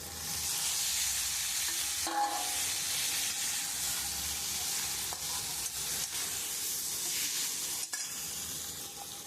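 Lote fish added to a pan of cooked-down spiced masala for a fish curry with aubergine, giving a loud, steady, hissing sizzle with occasional stirring scrapes and no voices.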